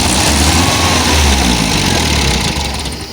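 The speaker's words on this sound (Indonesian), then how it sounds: "mesin akan tetap bisa menyala" A running engine keeps going at high revs after its solenoid is disconnected. The roar is loud, close and steady, then drops a little toward the end.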